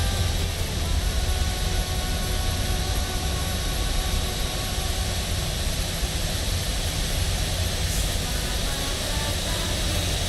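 A simulated aircraft engine drones steadily at an airport in Microsoft Flight Simulator, with a dense, even whine and rumble throughout and a Cessna Grand Caravan nearby.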